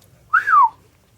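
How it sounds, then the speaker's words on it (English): A person gives a single falling whistle of amazement, one short sliding note swooping downward, close and fairly loud over a low hum. "Shen whistled in amazement."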